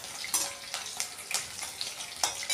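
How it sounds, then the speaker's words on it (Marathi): Peanuts frying in a pan with curry leaves and chillies for kanda batata poha, giving a steady crackling sizzle with brief louder bursts as they are stirred. "शेंगदाणा जरा परतायचा आहे"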